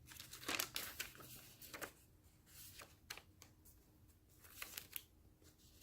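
A paper lunch sack used in a spring-themed junk journal is handled up close, giving off bursts of crisp crinkling and rustling with brief quieter gaps between them.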